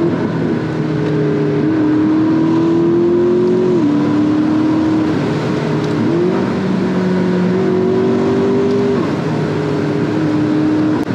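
A McLaren MP4 supercar engine revving and accelerating, a loud, continuous roar whose pitch climbs and drops sharply with gear changes, heard up close with no talking.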